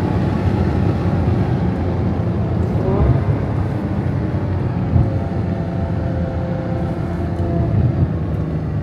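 A Ferrari F12 Berlinetta's V12 engine roars loudly and steadily at high revs with its exhaust valves open, a dense continuous drone heard close and alone with only slight swells in pitch.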